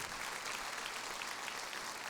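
A church congregation claps together in a steady, dense wash of applause that stays even throughout.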